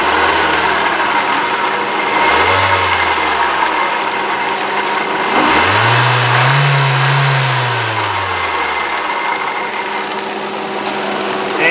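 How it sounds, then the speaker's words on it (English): A 2007 Ford Focus SES 2.0-liter four-cylinder engine running close up, a steady idle hum with a couple of brief revs swelling and falling back. "just be quiet once you guys listen to the motor"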